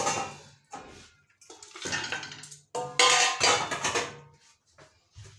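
Washed goat meat goes into a cooking pot with wet clattering and clanking of metal, splashes and scraping in uneven bursts, loud and close with short pauses.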